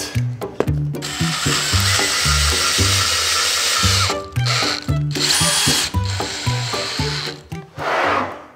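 A power drill repeatedly drives a screw into wood, with loud whirring bursts broken by short pauses and a steady rhythmic low pulsing throughout, close and alone.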